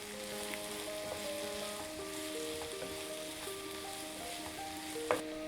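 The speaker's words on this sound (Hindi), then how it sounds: "अब हम इसमें प्याज डाल लेते हैं और इसे हम चला लेते हैं।" Chopped onions sizzling and frying in hot oil for a Punjabi dal makhani, with a steady bright crackle and occasional scrape of a spoon stirring, plus a sharp clink near the end.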